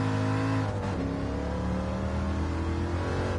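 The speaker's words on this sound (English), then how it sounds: "Just listen whenever you hear the sound of that muscle car to go with naturally aspirated." Naturally aspirated muscle car engine in Gran Turismo 7, droning steadily and loudly with a brief dip in revs around a hairpin before climbing again, no talk over it.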